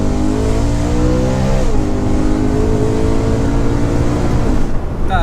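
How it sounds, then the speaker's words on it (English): A loud sports car engine with a manual gearbox holds high revs in a steady, close, droning roar. The pitch dips briefly partway through, and a few faint crackles follow near the end. "And it has like pops and bangs."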